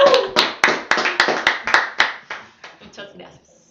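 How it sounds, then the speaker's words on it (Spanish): Applause closing a Spanish-language talk on territorial planning, architecture and feng shui: a short run of about a dozen sharp, separate claps, loud at first and then thinning and fading out. It sounds like a few hands rather than a full crowd. "¿Un aplauso? ¡Bravo!"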